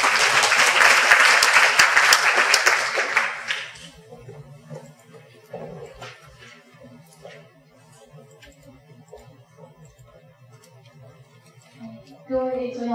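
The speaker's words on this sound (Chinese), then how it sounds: "请大家的掌声欢迎。" A hall audience at a youth working-holiday information session in Taichung claps loudly in warm welcome, then the applause thins out and dies away into near silence, with a voice starting up again just at the end.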